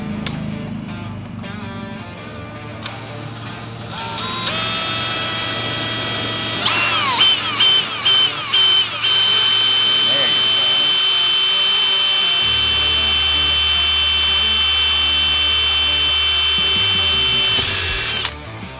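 Power drill with a quarter-inch bit bores a pilot hole into a Harley-Davidson motorcycle kickstand, a loud, close, sustained whine with a few brief stutters partway through.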